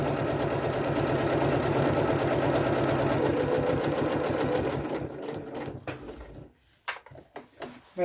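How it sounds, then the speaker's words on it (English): Sewing machine stitching a bag lining, running steadily and loud for about five seconds, then stopping and restarting in short bursts, with a brief backstitch to secure the seam. "I'm going to reverse to secure and sew to the end."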